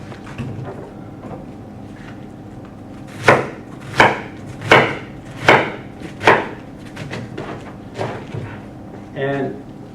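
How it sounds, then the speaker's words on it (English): A knife cutting cabbage into strips for sauerkraut on a wooden board: five evenly spaced, crisp crunching chops close up, then softer cuts, with someone speaking in the background. "sauerkraut we're going to cut up in strips"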